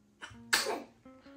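One sharp, close sneeze bursts out loudly with a brief inhale before it, set against a quiet indoor background with a faint tone lingering afterward.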